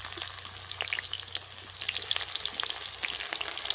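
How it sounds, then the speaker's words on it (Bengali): Chopped onion frying in hot mustard oil for achari chicken crackles steadily at close range, with bright popping spatters scattered through the sizzle and no one speaking. "তেলটা গরম হয়ে গেছে, তেলের মধ্যে দিয়ে দিচ্ছি পেঁয়াজ কুচি"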